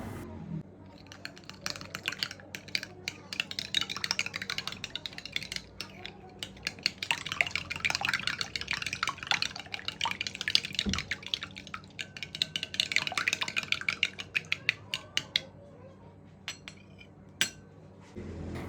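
Eggs are whisked in a bowl with powdered sugar and refined oil, making rapid, steady clinking and tapping of a whisk or fork against the bowl for most of the clip, fairly close and moderately quiet.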